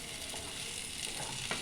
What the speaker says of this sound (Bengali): এই যে ভাজা ভাজা হয়ে গেছে বেগুনটা।